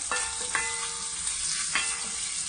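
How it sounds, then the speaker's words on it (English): Flour fries in a pan for a soup roux, giving a constant close sizzle with a few metallic clinks of stirring spread through the short stretch. "the flour to make a roux"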